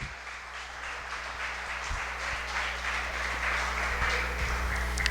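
A church congregation at an evangelistic service breaks into steady applause, many hands clapping together in a continuous wash that swells slightly toward the end, with an organ-like drone underneath.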